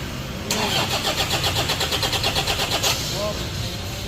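Toyota Innova D-4D diesel engine, just after turbo and EGR valve cleaning, cranks and catches, then chugs with a rapid, steady rhythmic knock up close before settling; a brief voice is heard near the end.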